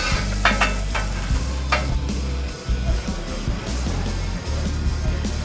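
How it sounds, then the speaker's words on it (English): Birria tacos fry and crisp in a pan with a constant close sizzle, while a few scraping and stirring clicks sound as they are turned. "Flip these, and they really don't take long, man, to get crispy."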